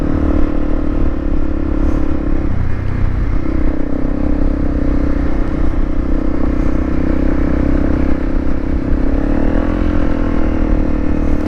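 Honda CRF 250 Rally motorcycle with a faulty clutch running close by: a loud, steady engine drone with mechanical clatter and a slight rise in revs near the end, with no talking.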